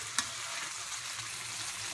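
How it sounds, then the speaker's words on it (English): Onions stirred and frying in a pot: a steady soft sizzle with a brief utensil scrape near the start, close and continuous. "You wanna mix the onions?"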